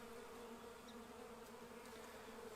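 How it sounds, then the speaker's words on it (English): Honey bees drone at a hive, a steady, dense, close buzz that holds evenly throughout with no voices. "take those bees, put them in the weak hive"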